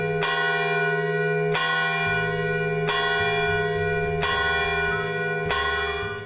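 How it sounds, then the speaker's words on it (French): Charançol, a 1548 church bell in the Tour Ripert clock tower at Valréas, rings in five loud, evenly spaced strikes, each bright clang leaving a long humming overlap into the next. "Comme vous pouvez le voir ici, la cloche, la Charançol, qui a été installée en"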